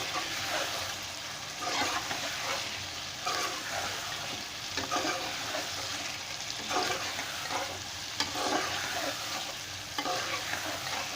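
Mutton with tomatoes and ginger-garlic paste fries steadily in a pot for a Pakistani tinday gosht curry, with a continuous close sizzle broken by repeated scraping stirs at an uneven rhythm.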